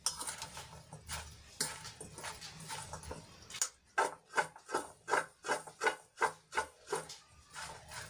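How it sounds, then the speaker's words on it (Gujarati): Turmeric and salt are mixed into cut carrots for a quick pickle, heard as rhythmic scraping strokes of a spoon against a bowl, close and even, following a few quieter rubbing sounds. "આપણે હળદર અને મીઠાને સરસ રીતે ગાજરમાં મિક્સ કરી લઈએ"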